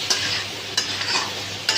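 Finely chopped tomatoes go into hot oil for chhole masala and get stirred, a close sizzle broken by three sharp scraping spoon strokes.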